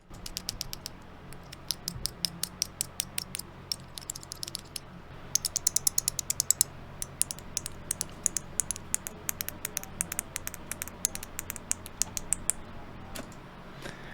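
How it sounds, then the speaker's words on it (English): Recorded sample of bottle caps, rattling and clicking in dense bursts of sharp small ticks over a low steady hum, busiest in the middle and thinning out toward the end. "There's the bottle caps."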